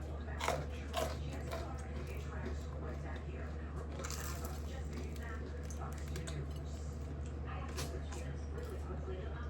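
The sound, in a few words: crunchy bite and chewing of leftover food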